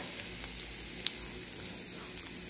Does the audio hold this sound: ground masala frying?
yes